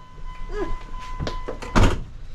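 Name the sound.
car door being shut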